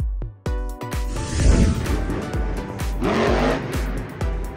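Monster Jam monster truck Zombie roars with a loud, revving engine and repeated tire squeals and skids, a busy, close, continuous racing sound with sharp throttle bursts.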